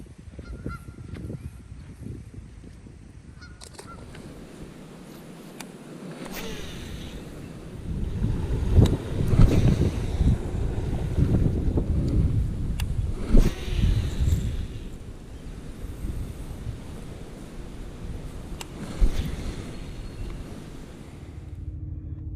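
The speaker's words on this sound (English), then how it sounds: "Started to get windy." Wind gusts across a farm pond, a broad rumbling roar that swells and buffets the microphone from about seven seconds on, with occasional goose-like honks and no voices.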